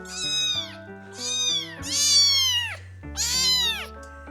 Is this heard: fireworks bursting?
no